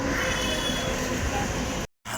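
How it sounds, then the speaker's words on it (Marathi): A Mumbai slow local train bound for Kalyan rumbles at a station platform, a loud, continuous roar of wheels and carriages with faint squeals, cut by a brief silence near the end. "आलेली लोकल 8:08 कल्याणला जाणारी धीमी लोकल आहे."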